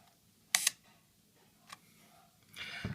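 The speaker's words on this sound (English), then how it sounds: "Now your shutter's cocked, and you'll be able to press this button and take a picture." A Yashica film camera's cocked shutter fires with one sharp, close mechanical click, followed later by a fainter tick and some soft rustling handling noise, in a quiet room.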